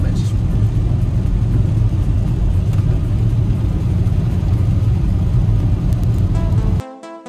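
A Toyota Avensis 2-litre turbodiesel engine runs with a loud, steady low drone that cuts off abruptly just before the end.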